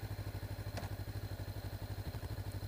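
A 2019 Honda CB500X motorcycle engine runs close by at a steady, even idle after starting, with a regular low pulsing throb and a brief clatter, and no voices.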